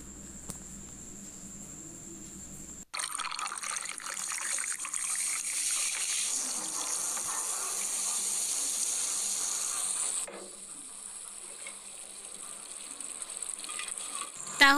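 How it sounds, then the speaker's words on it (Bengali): Campa cold drink is poured into a glass, a soft fizzing trickle and hiss lasting several seconds before it tapers off, faint against a quiet room. "আমরা কোল্ড ড্রিঙ্কসটা ঢেলে নিয়েছি"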